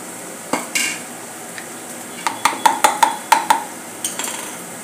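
Vegetables being tossed with browned onion in a pan for a school lunch box, a series of sharp metallic clinks and scrapes from a spoon against the pan, spaced irregularly and then in a quick cluster, with a faint sizzle underneath.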